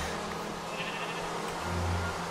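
Sheep bleat in Minecraft, a soft, continuous in-game bleating with steady background game ambience, no talk over it.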